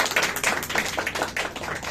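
A church congregation claps together during a sermon, a dense, steady patter of many hands that carries on loud and close without pause.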